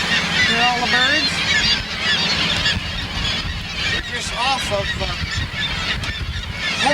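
Seabirds call loudly and constantly at Gull Island, Alaska, a dense chorus of honking, squawking cries close by, with a person speaking briefly over them.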